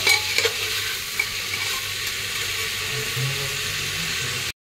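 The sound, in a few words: stirring and frying vegetables with turmeric for pav bhaji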